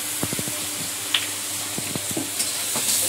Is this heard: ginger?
yes